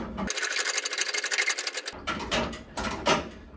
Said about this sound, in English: we're gonna crank it to the left or counterclockwise. And as we do that, it's gonna lower the tire below.